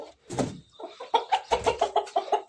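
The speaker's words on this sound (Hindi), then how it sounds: "चूजे अंदर हैं, इनको खोल देते हैं।" Chickens cluck repeatedly in a quick, regular series of short calls after an initial rustle. The birds are close and fairly loud, with no talk over them.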